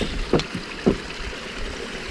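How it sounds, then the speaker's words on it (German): Mountain stream water rushing steeply down a rocky Bavarian highland creek, a steady close roar with a couple of brief splashy surges. "das Wasser schießt hier runter, direkt runter den Bach"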